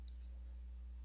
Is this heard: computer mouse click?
yes